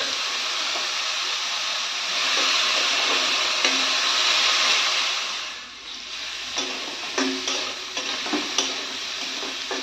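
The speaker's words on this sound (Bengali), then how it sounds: "তো একটু ভেজিটেবলগুলি ভেজে নিই" Vegetables fry in a home kitchen pan: a close, steady hiss of sizzling oil, with stirring scrapes and light clicks of a utensil growing more frequent in the second half.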